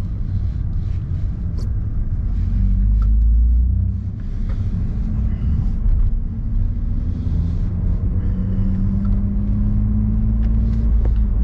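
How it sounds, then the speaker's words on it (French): A BMW Z3 2.8i coupé cruises at about 40 km/h in third gear near 1700 rpm, giving a steady low engine drone with road rumble and a slowly shifting tone, close and continuous with no voices. "Même en roulant comme ça à 40, je veux dire, à 40 en troisième, à 1700 tours minute, je suis content."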